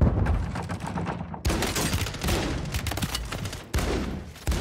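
Shotgun fire in the video game Call of Duty Warzone, several loud, close blasts with sharp onsets and dense decaying gunfire noise between them.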